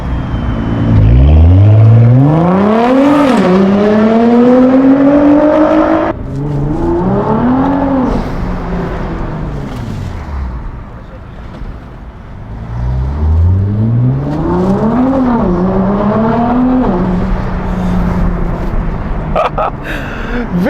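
A Nissan GT-R with a twin-turbo V6 and Fi exhaust valves revs three times, each rev rising in pitch before falling away. The engine is loud and close, and there is no talk over it.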